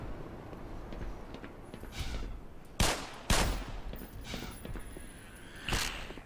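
Gunfire in the video game Black Mesa: a few sharp shots in quick pairs, loud and close, with lighter clicks and shuffling between them.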